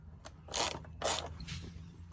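A ratchet loosening 7mm bolts threaded into the plastic airbox panel of an Alfa Romeo Giulietta, two bursts of rapid clicking close by, followed by a softer, longer stretch of ratcheting.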